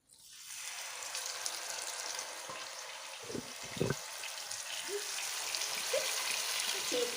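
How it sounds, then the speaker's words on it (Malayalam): Marinated tandoori chicken goes into hot oil in a pan, setting off a steady close sizzle that builds and keeps crackling, with a few soft knocks and bumps over it. "അപ്പം എന്നെ കോഴി ഇതിലേക്ക് ഇട്ട് കൊടുക്കാം"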